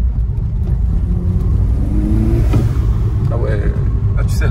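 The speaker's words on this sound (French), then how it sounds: "une fois que le turbo se déclenche un peu plus, ça chante" A turbocharged Peugeot 306 engine with an engine swap revs with a loud, deep, rumbling drone that rises in pitch as it climbs, heard close up, while people talk over it.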